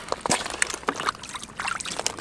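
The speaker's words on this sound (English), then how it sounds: "I need to wet this a bit more" Water poured onto fishing ground bait beside the Danube, uneven close splashes and trickles coming in short bursts with irregular pauses.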